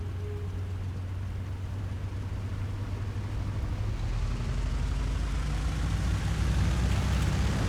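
P-47D Thunderbolt fighter engine in a video game throttling up for takeoff, a deep droning hum that grows steadily louder and rougher over several seconds, close and continuous.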